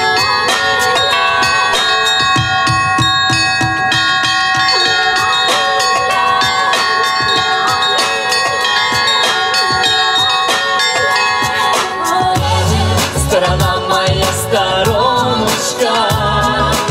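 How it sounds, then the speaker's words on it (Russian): A bell-ringing master plays his own compositions on a set of church bells at an exhibition, a dense, loud, continuous peal of many struck bells in rapid rhythmic patterns with ringing overtones and deeper bells joining near the end. "Свои авторские произведения исполнил мастер колокольного звона Владимир Архангельский."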